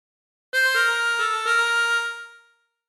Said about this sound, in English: practice this until you end up with something that sounds like this